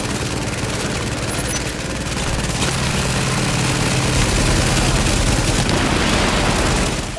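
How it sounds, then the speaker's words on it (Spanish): Dense, continuous gunfire from a firefight in the video game The Division, loud rapid shots layered over a low rumbling background throughout, with no talking. "qué de tiros hay por aquí"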